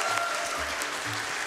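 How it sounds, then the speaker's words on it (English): An audience at a Twilight Princess Randomizer co-op speedrun event at SGDQ 2024 claps in a short, dense burst of applause, moderately loud. "Dude, just clap. Clap."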